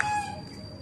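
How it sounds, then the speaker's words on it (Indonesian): A goose near a school: a single short honking call, close and clear, that fades into light outdoor background within a second. "ini ada binatang yaitu angsa"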